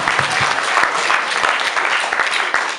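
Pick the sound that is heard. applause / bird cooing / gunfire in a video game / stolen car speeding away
applause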